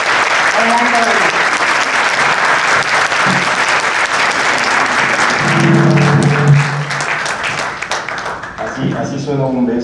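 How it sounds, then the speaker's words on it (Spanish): Loud audience applause welcoming Manuel to the stage at a talk, dense clapping that carries on while voices and cheers rise over it and then fade toward the end. "hay que darle un gran abrazo y un gran fuerte aplauso a Manuel para poder recibirlo"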